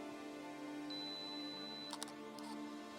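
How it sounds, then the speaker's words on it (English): A Hasselblad or Fujifilm camera's loud shutter fires once on a 2-second self-timer at 1/15 s during a sunrise shoot at Mount Barney, a short mechanical double clack over steady outdoor background noise. "It's a nice loud shutter"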